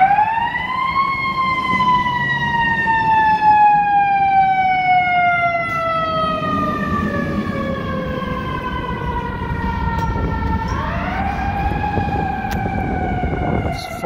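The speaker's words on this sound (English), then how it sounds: "Fire engine number 3 responding to a call, to a fire call." A fire engine siren sounds loud and continuous as the truck passes through downtown Chicago streets. Its wailing tone slides slowly downward, then jumps back up near the end, over steady city traffic noise.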